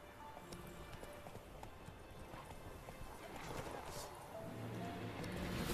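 Horse hooves clip-clopping in The Witcher 3: Wild Hunt, a faint, steady trot of hoofbeats under an ambient game soundscape that grows slightly louder toward the end.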